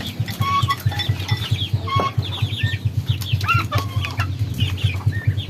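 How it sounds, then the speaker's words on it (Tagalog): Pet hens cluck and make short calls close by, the bursts repeating over a constant low drone, and a goat-like bleat may be mixed in. "Thank you mga alaga kong manok."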